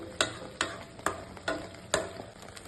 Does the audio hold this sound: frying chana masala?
yes